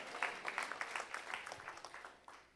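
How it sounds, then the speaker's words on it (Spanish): Applause from a church congregation, many hands clapping in a steady crackling wash at moderate distance, sustained throughout without voices. "Dele un aplauso a Jesucristo."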